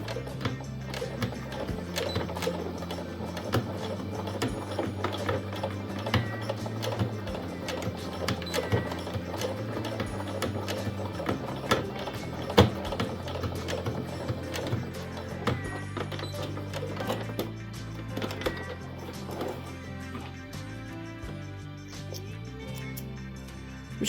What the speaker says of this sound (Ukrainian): Ще раз навпіл прокладу строчку.